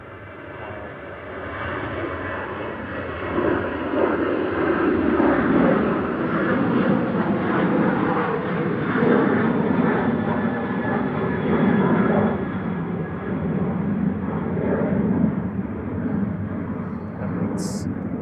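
An airliner takes off from Manchester Airport, its broad, loud engine roar swelling after a few seconds and then holding steady and powerful through to the end.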